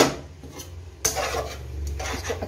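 Chinese restaurant-style chicken and vegetable fried rice stirred in a pan: scraping and rubbing of a utensil against metal, with a sharp clank partway through, over a constant low background rumble.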